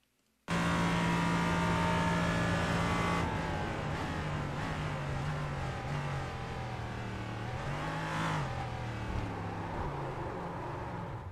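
A race car at full throttle, engine note climbing and shifting through gears, loud and close for the whole stretch after a brief silent start, with a rough jolt partway through as it bites a sausage curb during a heat race.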